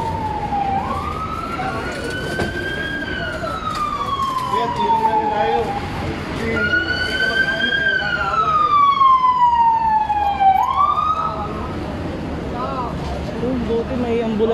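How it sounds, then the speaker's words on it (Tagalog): An ambulance siren wails, rising and falling in long sweeps over steady road noise, fairly close and loud throughout. "Buti may ambulansya na."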